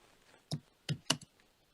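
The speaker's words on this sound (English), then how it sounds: "So talking and typing are very difficult for me to do. So I'm going to finish typing here." A few separate key clicks from typing on a computer keyboard, close and fairly quiet, in a short irregular burst of three or four strokes with quiet between them.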